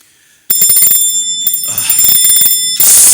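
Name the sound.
bell ringing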